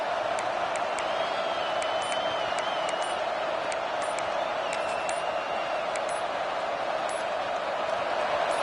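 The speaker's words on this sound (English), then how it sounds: "The roar of the crowd trying to fuel this defense to keep them pinned in their own end." A roaring stadium crowd at an Indiana vs. UCLA college football game, a steady, dense wash of massed voices that holds without a break, with faint whistle-like tones drifting over it.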